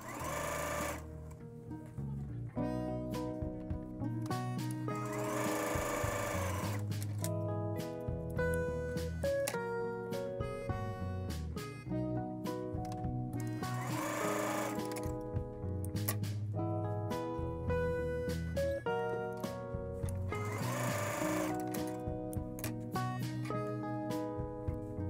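Sewing machine chain piecing quilt block units, a steady close mechanical whir with rapid needle rhythm running almost continuously, briefly pausing between pieces.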